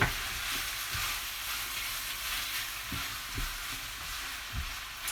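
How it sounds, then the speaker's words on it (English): A spoon scrapes and stirs cassoulet with pork in a pot, giving soft irregular scraping strokes over a faint steady sizzle, close and fairly quiet. "Keep stirring."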